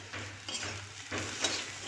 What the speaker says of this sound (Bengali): পেঁয়াজ কুচিটা লাল করে ভাজবো।